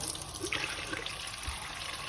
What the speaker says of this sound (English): I'm going to add another round of cold water